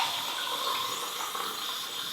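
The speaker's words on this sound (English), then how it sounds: "put just a small amount of your cleaner and dilute it with some water" Water runs steadily from a tap into a container to dilute a small amount of cleaner, a close, continuous hissing splash that holds even for a couple of seconds.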